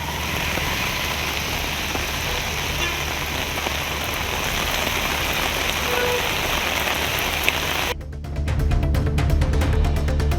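Steady rain pours at night in a Tamil Nadu town, a dense continuous hiss of drops on surfaces filling the whole stretch, loud and close, with the texture shifting slightly near the end and no talking.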